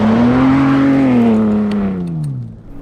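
Ford Bronco Raptor engine revving loudly during dirt drifting, a strong sustained drone that rises and then slowly falls in pitch over a few seconds, close and alone with no talk.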